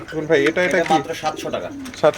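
Fancy pigeons cooing at a pigeon market in Taherpur Bazar, Bagmara, Rajshahi, with low, rolling coos close by that are mixed in with people talking.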